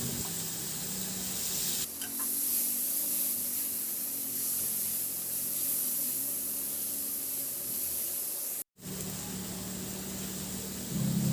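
Onion sautéing in a pan with garlic, a steady close sizzle and spray-like hiss running throughout with brief dips, while squid is being cooked.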